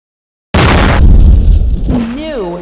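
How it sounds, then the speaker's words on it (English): A grenade from a quick throw bursts in a shooter video game, a sudden loud boom that rumbles and fades for over a second, followed by a brief voice. "Eliminate all targets with a grenade using quick throw."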